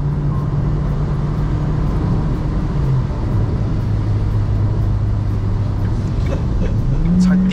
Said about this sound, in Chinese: 給隨時地板油，它就降3檔再加速。